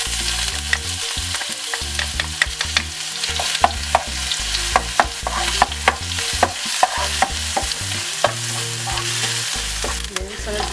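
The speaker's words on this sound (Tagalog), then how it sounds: "Next step, magigisa na po tayo. Maglalagay lang po tayo ng oil. Then, sunod po natin yung garlic." Garlic sautés in hot oil with a dense, loud sizzle and frequent utensil taps, under continuous background music.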